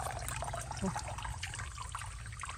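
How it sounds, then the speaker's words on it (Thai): Water flows and trickles steadily close by during fishing in a stream, a faint continuous rushing wash with small splashy flickers and no clear talk. "ระวังโลน้ำไหลมาพี่น้อง"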